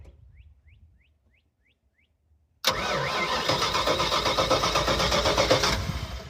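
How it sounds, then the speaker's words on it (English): A cold car engine, on a project car being readied to drive after 27 years, is cranked for about three seconds without firing, loud and close, after a quiet stretch with faint bird chirps. "We've not been able to get the engine to fire"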